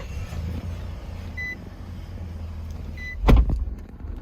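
A 2022 Nissan Frontier pickup truck starts with a short, loud burst of engine noise near the end, over a steady low cabin rumble.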